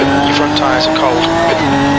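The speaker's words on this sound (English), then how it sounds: "You're locking your right front into turn 2." Race car in the Assetto Corsa sim at the Red Bull Ring, G55 Supercup, its right front tyre locking into turn 2: a steady engine drone with a shifting squeal-like tone, continuous and loud, mixed with a voice.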